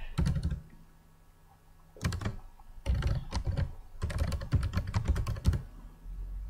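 An email address being typed on a computer keyboard: quick bursts of crisp, close key clicks separated by short pauses, with one longer gap before a sustained run of rapid tapping.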